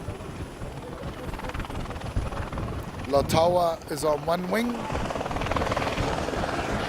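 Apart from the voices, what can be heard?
helicopter leaving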